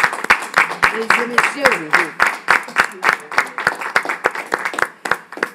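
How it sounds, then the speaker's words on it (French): Rhythmic hand clapping from an audience at a Kadance Kreole Creole dance show, steady beats running under an announcer's voice, with music-like tones faintly beneath. "On les applaudit bien fort, mesdames."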